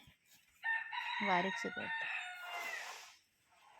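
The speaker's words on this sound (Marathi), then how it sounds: "कोंबडा पण आवाज देतोय." A rooster crows once nearby in a village in Raigad, Konkan, a long loud cock-a-doodle-doo stretching over two seconds, with a person briefly speaking around it.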